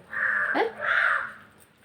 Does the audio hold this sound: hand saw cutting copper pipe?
no